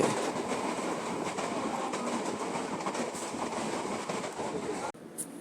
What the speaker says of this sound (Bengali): এই দেখো ঝড়ের গতিতে পাস হচ্ছে one two three seven eight down পদাতিক এক্সপ্রেস শিয়ালদার দিকে যাচ্ছে